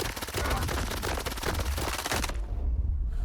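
Loud, rapid automatic gunfire from a Grom S-14 rifle in the video game STALKER 2 rattles in a continuous burst, then cuts off abruptly into near quiet.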